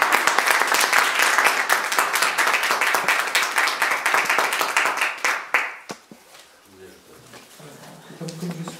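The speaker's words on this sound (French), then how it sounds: "on pourra les applaudir et les remercier" Audience applause after a talk at a science-fiction convention, loud steady clapping for about six seconds that stops abruptly, followed by quieter talking.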